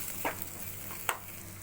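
Maggi noodles being stirred in hot oil in a pan: a quiet, soft sizzle broken by two brief spatula scrapes, close and alone.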